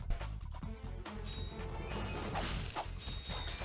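Metallic clanks, whacks and mechanical ratcheting from a wrench being swung in the video game Ratchet & Clank, dense and continuous over a busy game soundtrack with no talking.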